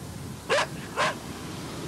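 A dog gives two sharp, evenly spaced barks outdoors on a street, fairly close and distinct above a steady background hiss.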